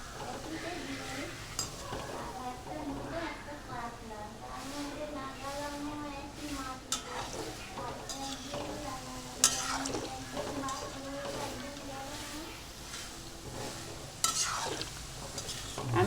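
Palm fruit fritters (taler bora) fry in hot oil with a steady close sizzle, broken by occasional scrapes and clinks of a spatula against the pan, while someone talks over it.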